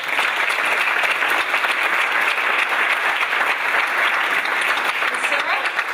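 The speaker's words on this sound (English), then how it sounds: "how about one round of applause for all these folks?" Sustained applause from a crowd, steady and fairly loud throughout with no pauses.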